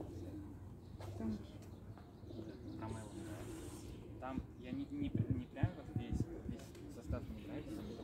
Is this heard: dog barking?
no